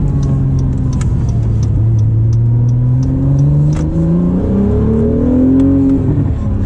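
A 2017 Acura NSX with a Science of Speed exhaust accelerates from inside the cabin, its engine note climbing steadily through the revs with a smooth rising whir and exhaust growl, loud and continuous with no talking.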